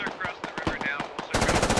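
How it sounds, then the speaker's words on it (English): Machine gun fire in the tactical shooter game Squad, first as scattered distant shots and then a sustained, loud rapid burst that dominates the end. "And now Gorwolf's starting to receive fire, but he's still deployed"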